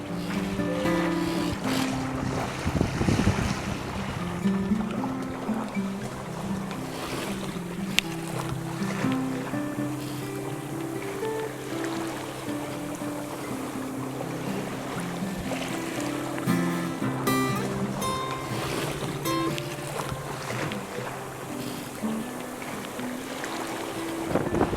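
Steady wind and water noise aboard a sailboat heading back to Block Island under a south wind, a continuous even rush with faint creaks and tones, no talking.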